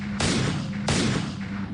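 Gunshot sound effect: two sharp, loud reports about seven tenths of a second apart, each with a short decaying tail over a low steady hum.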